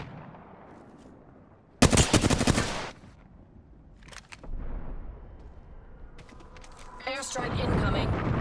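Gunfire in Apex Legends: a loud burst of rapid automatic fire, then scattered shots and another sustained burst near the end, mixed with game voice callouts.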